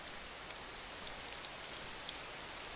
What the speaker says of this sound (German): You are getting wet, es regnet.